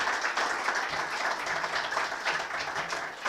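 A seminar audience gives a steady round of applause for a talk on ancient advice about marriage and children, with dense, even clapping throughout and no voices.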